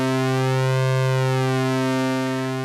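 Two synthesizer oscillators sustain a steady layered tone, slowly drifting in and out of tune so the pitches rub and beat against each other, loud and alone without any talk.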